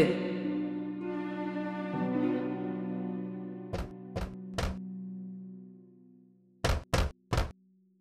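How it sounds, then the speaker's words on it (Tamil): Someone knocks on a hut door in an animated children's story, three sharp raps, a pause, then three more, loud and close after a fading musical tone, with no voices. "பின்னர் குடிசைக்கு முன்னால் வந்து கதவை தட்டியது."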